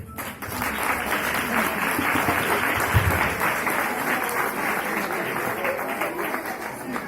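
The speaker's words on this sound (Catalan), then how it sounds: "Rebem-los amb fort aplaudiment." Steady, dense audience applause at a Christmas concert in Torreforta, a crowd clapping loudly and evenly for the full stretch with no talk over it.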